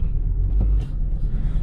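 A 2015 Jeep Patriot, just repaired after a throttle body fault that left it in limp mode, drives along with a steady low engine and road rumble, close and continuous.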